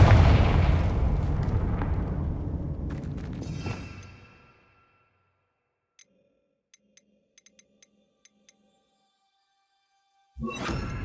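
The Confringo fire spell in Hogwarts Legacy erupts in a loud, rumbling explosion that fades out over a few seconds, followed by near silence with faint ticks and another burst at the end.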